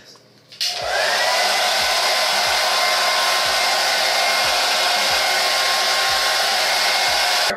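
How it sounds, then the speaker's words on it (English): A hair dryer switches on after a brief pause and blows continuously, a loud steady whoosh with a faint motor whine close by. "we're gonna blow dry it with the blow dryer"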